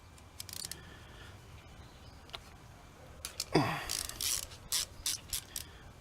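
A ratchet wrench clicks as it turns a half-inch nut on the carburetor bowl of a Scotts OHV Intek small engine, with several close, quick clicking bursts that come louder toward the end.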